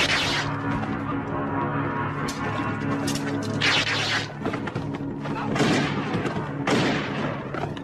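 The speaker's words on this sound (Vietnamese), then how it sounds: "Tiếng pháo. Pháo nổ." Firecrackers bursting in a martial arts film scene, a dense run of loud booms and sharp cracks over continuous background noise, with several bright crackling bursts standing out.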